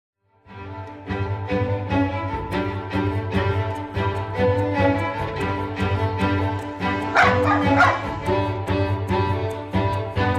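Pet dogs in London bark and yip steadily and close up, with sharp repeated barks running in a continuous rhythm over a low steady hum.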